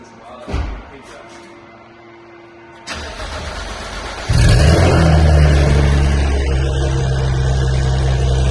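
A Porsche 991 GT3 sports car fires up: a brief starter crank, a pause, then the engine catches with a sharp blip and settles into a loud, throaty, steady idle close by, with a short human sound early on.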